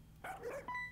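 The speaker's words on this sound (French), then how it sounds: "Ça a l'air d'être un Pokémon, ouais, c'est un aboiement" A Pokémon barks in the fan-made video game Pokémon FLUX, a short synthesized doglike bark of two quick yelps, clear and fairly loud over a faint steady hum.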